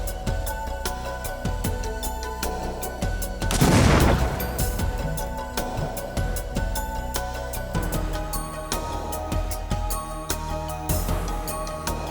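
A bomb detonated during a training exercise makes one short, broad blast that rises out of steady background music and fades within about a second.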